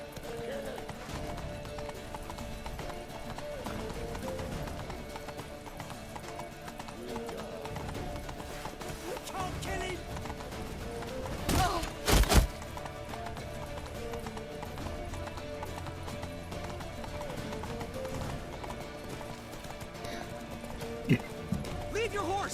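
Rapid clip-clop of a horse galloping in The Witcher 3, steady hoofbeats running continuously at moderate distance under game music, with a couple of sharper impacts midway and voices shouting briefly.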